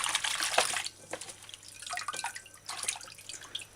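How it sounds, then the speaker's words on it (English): Tap water runs and splashes over broccoli florets being rinsed under a kitchen faucet, an uneven close trickle with bursts of louder spattering and short lulls, no voices. "rinse this off and put fresh water on it"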